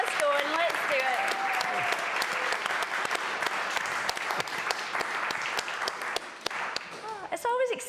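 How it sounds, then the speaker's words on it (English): An audience applauds at a marketing awards ceremony as a winner is called to the stage. The dense, continuous clapping fills the whole stretch, with a presenter speaking over it at the start and again near the end. "Keep the applause going."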